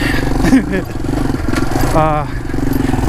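Yamaha TW200 motorcycle ridden on singletrack trail in the Eastern Sierras, its engine droning steadily with clatter and bumps underneath, while the rider talks and grunts over the ride.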